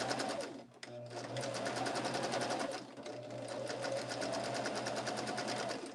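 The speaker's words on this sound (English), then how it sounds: "we're going to take it to the machine and we are going to stitch at 1/4 inch" A sewing machine stitching quilt sashing at a quarter-inch seam, a close, fast, steady rattling hum with one brief pause near the start, no talking.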